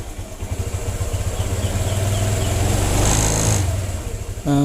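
A Honda Vario 125 scooter that stutters when pulling away is revved repeatedly, its engine rising and falling in a rough pulsing drone, then settling into a smoother idle note at the end.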